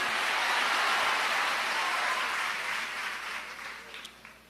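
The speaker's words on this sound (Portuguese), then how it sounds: "Você pode aplaudir ao Senhor e misturar nessas palmas glória e aleluia." A church congregation applauds the Lord, a broad, even roar of many hands clapping that holds strong and then gradually fades toward the end.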